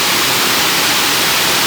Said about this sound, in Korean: 쌍폭포입니다.